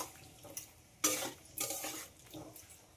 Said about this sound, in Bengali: সব কিছু আবারও কষিয়ে নেব